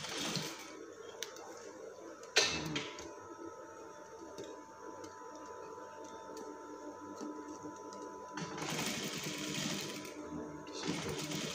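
A sewing machine stitches a waist seam in brocade lace fabric, running in a steady, close mechanical whir. Louder bursts of motor noise come at the start and again near the end.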